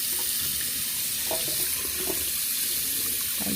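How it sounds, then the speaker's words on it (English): Cold water poured from a container onto ice, a steady close splashing and trickling that runs evenly for several seconds with no talk. "I'm pouring my cold water on the ice."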